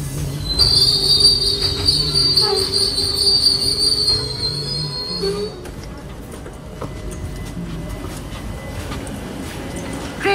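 A suburban train pulling into Barrackpore station near Kolkata gives a loud, shrill metallic wheel squeal for about five seconds, then fades to rumbling rail noise, with people's voices in the background.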